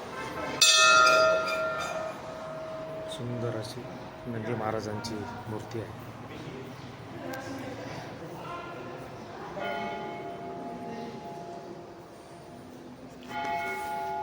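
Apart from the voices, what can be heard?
large temple bell ringing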